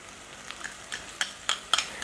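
Spring onion whites frying with garlic in a hot pan, a steady soft sizzle broken by several crisp stirring scrapes and clinks, close and without talk.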